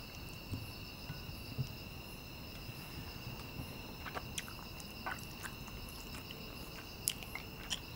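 Spicy Sinjeon tteokbokki is chewed in soft, irregular squishy bites, faint and close, while insects chirp steadily in the background.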